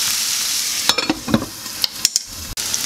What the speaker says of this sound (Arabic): كنغطيو هاد البصل ديالنا باش يطيب غير بالفوار ديالو